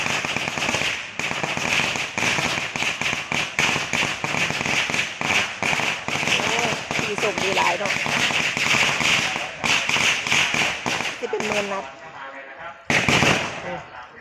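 Firecrackers rattle off in dense, rapid strings of sharp cracks at a Thai temple, loud and close and continuing almost without a break, then stop briefly before a final burst. Voices carry underneath.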